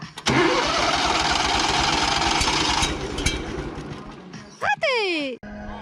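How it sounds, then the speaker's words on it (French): A stump grinder engine cranks and catches, roaring loud and steady for several seconds before sputtering, revving briefly and cutting out in a failed start; no one speaks. "Démarrage de l'engin."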